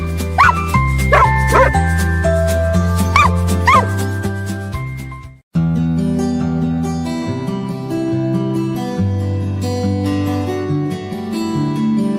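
Barking from an Australian Shepherd, a few sharp yips and woofs over music in a commercial, followed by a brief dropout and continued music.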